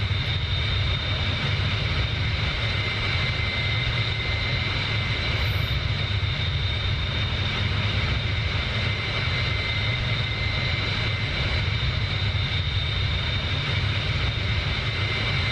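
A Bell 47 helicopter engine drones while the helicopter taxis in the DCS flight simulator, a steady, dense mechanical roar that stays unbroken and even throughout, with no talk over it.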